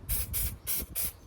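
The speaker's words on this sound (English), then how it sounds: "Just a bit of brake cleaner" Brake cleaner sprayed from an aerosol can onto parts of a Lancia Beta abandoned for 20 years, in four sharp, close hissing bursts separated by short pauses.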